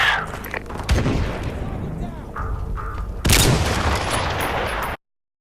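Sniper rifle fire in the shooter game Modern Warfare Remastered, with a sharp shot near the start, another crack around the middle and a loud booming blast late, over a dense backdrop of in-game battle noise.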